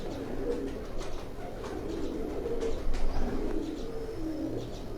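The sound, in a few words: Lakha pigeons cooing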